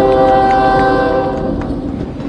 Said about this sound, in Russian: поезд уезжает